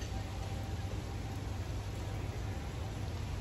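Rain falls steadily outdoors in Japan, a soft, even hiss of drops that holds without pause, with no voices over it.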